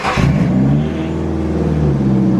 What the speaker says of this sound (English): we're gonna pull my S13 in right now